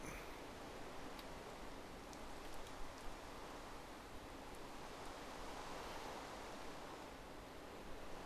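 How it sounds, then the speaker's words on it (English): Steady rain falls in the Minecraft video game, an even, unbroken hiss of drops held at a soft, constant level with no voices over it. "It keeps raining. It's a very rainy area."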